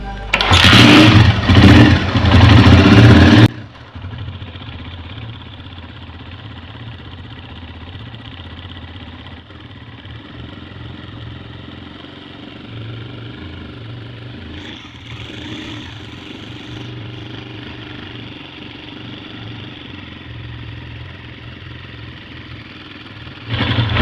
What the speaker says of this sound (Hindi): अभी दोबारा से बाइक को स्टार्ट करेंगे।